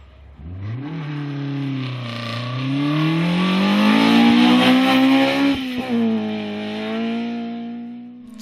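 A Vauxhall Corsa rally car on a dusty 1400 championship stage accelerates through the gears, its engine note rising steadily and loud as it passes close, then easing slightly after a shift.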